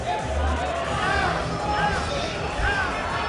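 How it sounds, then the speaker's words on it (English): A large crowd of spectators at the Evo 2012 Street Fighter tournament keeps up a steady roar of cheering and babble under close-miked commentary, with voices rising in waves throughout. "The crowd getting into it,"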